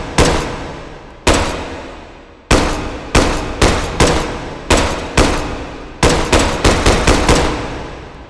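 An M1 carbine fired semi-automatically in the VR shooting game H3VR: about a dozen loud, separate shots, each with a ringing decay, spaced unevenly and quickening toward the end.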